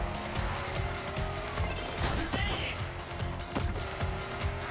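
Racing video game Hot Shot Racing car oversteering, a loud continuous engine roar with screeching tire skids layered on top, a player's voice occasionally under the game sound.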